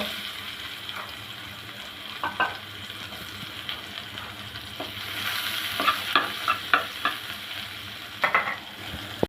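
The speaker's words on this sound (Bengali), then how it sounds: "এখন দিয়ে দেবো পেঁয়াজ কুচি লাল লাল করে ভেজে নিব" Chopped onions frying in hot oil after garlic in a home kitchen pan, a steady soft sizzle with intermittent stirring scrapes and clinks growing busier toward the end, no talking.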